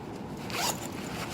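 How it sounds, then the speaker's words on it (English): A short zipper pull on a piece of luggage, a quick rasping slide heard up close and fairly quiet, with no one speaking. "And you can see here, it's got a zipper."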